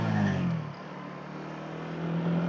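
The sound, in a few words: motorcycles passing by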